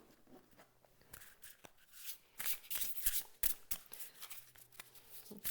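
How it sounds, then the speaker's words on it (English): Tarot cards are shuffled by hand, with papery riffles and soft flicks in irregular bursts, close up and fairly quiet. "Let's try my shuffling."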